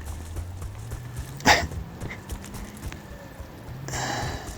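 Horse-drawn buggy hooves clip-clop faintly in the Battlefield Bad Company 2 game world, a soft irregular patter under steady ambient game noise, with one sharp louder knock partway through.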